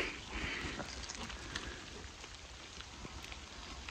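Rain falls steadily in a wild area with a crimson bush nearby, a soft continuous hiss with faint scattered drop patters, quiet and unbroken throughout.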